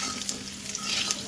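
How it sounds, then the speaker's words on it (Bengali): Kaita pitha fries in a pan with a soft, steady sizzle and crackle close by, fairly quiet, with brief spattering pops and no talking. "এই যে ওটা মানে কাইটা ভাজি করতেছি।"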